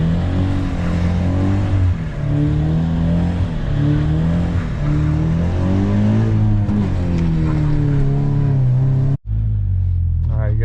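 A slammed Subaru BRZ drifting on a slick, icy street, its engine revving hard and loud with rising and falling pitch sweeps that run steadily, close up, before cutting off abruptly near the end.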